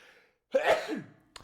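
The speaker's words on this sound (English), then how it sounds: "Sneezed on the air." A person sneezes close to a microphone, one sharp burst with a breathy tail, followed by a brief exhale or sniff.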